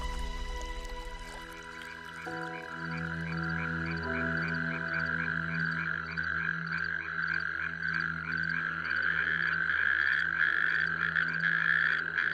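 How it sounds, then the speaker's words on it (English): Natterjack toads in a moist beech forest croak in a long, loud, rapid rattling trill that runs continuously and close, with softer overlapping calls behind it. "The natterjack toad."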